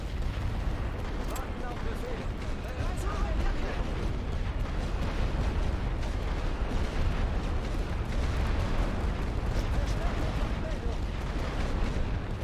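Artillery shells pound trenches in The Great War: Western Front, a steady loud barrage of booms and rumbling blasts that never lets up, with a voice talking over it.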